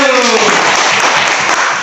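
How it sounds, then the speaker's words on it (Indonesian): Classroom applause from students, a dense steady patter of clapping that fills the whole stretch at a close, even level, with a voice briefly audible at the start. "tepuk tangan"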